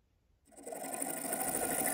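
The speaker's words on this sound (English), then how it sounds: "It's time to bore the inside diameter out to the correct size" A Boxford BUD lathe bores out the inside diameter of a small scrap-metal oil can body to 24 mm, starting after a brief silence as a steady, close mechanical whir with a fine high-pitched cutting hiss that holds constant.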